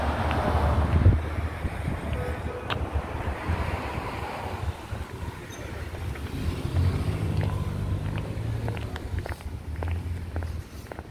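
Wind buffets and roars steadily against the microphone during an outdoor bike ride, loud and continuous with low rumbling gusts and no clear talk.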